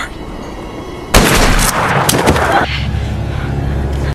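A rifle shot rings out in a film scene, one sudden loud blast followed by a sustained rumbling roar and echo that drops to a lower steady din.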